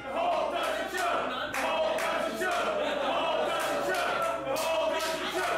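Wrestling crowd at an underground women's extreme wrestling show, a dense roar of many voices chanting and yelling together, steady and loud throughout with no clear single voice on top.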